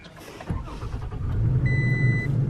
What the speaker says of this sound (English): You go to turn on your truck.